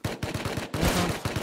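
Rapid gunshots from the survival video game Rust, a burst of evenly spaced cracks followed by a louder sustained volley and a couple more shots, close and loud with no talk.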